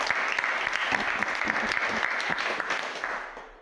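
A church congregation breaks into loud, dense applause close by, many hands clapping together for a few seconds before it starts to fade.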